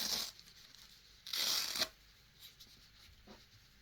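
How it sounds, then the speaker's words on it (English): A foam comfort pad being peeled gently off a BOBOVR M3 Pro head strap for a Meta Quest 3: two brief ripping tears of fabric fastener, close and crisp, followed by faint handling rustles, no voices. "It's a case of just peeling off gently."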